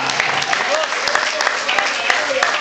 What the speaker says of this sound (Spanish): Denle un aplauso a Cristo en esta noche